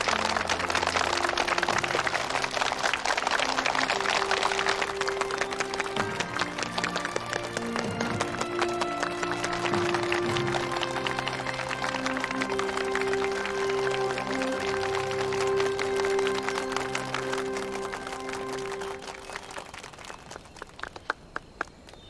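Assembled comrades applauding at a meeting, dense sustained clapping that runs for many seconds with music underneath, thinning out toward the end.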